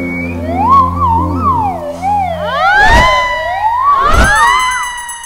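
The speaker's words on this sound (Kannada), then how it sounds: "ಸೈರನ್ ಸುರಾಯ್ತಲ್ಲಪ್ಪ." A loud, close siren wails with rising and falling sweeps in a Kannada comedy film scene, with a couple of sharp knocks or thumps mixed in.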